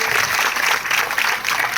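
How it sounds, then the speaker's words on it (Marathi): An audience claps at a ceremony honouring a student for exam results, presented by a former soldier, a brief steady wash of applause with no break. "या ठिकाणी टाळ्या वाजून"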